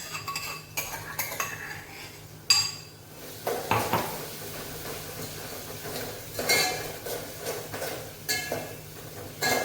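Chopped onion with ginger-garlic paste is stirred in a hot pan, a metal spoon scraping and clinking against the cookware in irregular bursts over a faint low sizzle, with no talking.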